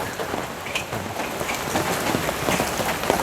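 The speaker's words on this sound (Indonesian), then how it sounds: "Hujan." Steady rain falls on surfaces in East Java, a dense, even hiss of drops and patter that holds constant and close throughout with no talking.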